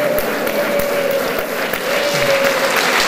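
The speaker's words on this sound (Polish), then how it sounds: "brawa, owacje dla naszego wspaniałego, znakomitego tenora Witolda Matulki." An audience applauds a tenor at a spring concert, a steady burst of clapping with sharp individual claps close by and a host's voice lightly over it.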